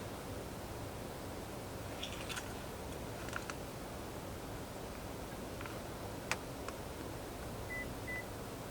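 A Launch X431 Pro Elite scan tool gives a few short, sharp electronic beeps during remote key programming, faint and sparse over steady background hiss, with no one talking.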